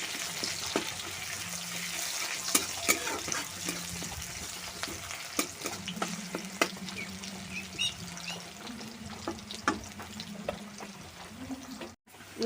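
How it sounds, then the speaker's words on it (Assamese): Onions frying in hot oil in a pan for a fish curry, a close, soft continuous sizzle broken by scraping stirs and clinks, with a brief voice and faint water sounds in the background. "এয়া পিঁয়াজ ভাজিছোঁ"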